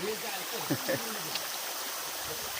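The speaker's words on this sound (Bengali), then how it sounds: "এখান থেকেও জল আসছে জলের আওয়াজ তো বুঝতেই পারছেন নিশ্চয়" Water of a stream flowing near Chaulabhaja Waterfall in Odisha, a steady broadband rush close by, with a voice talking briefly over it early on.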